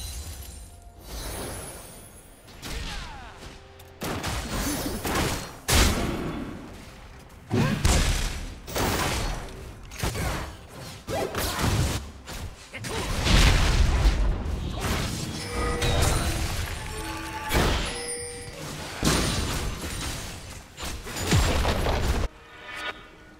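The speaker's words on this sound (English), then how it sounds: "Red team's turret has been destroyed." Turret destruction in League of Legends: repeated loud crashing, booming impacts and shattering bursts in quick clusters over continuous game effects, with near-constant action and no voices.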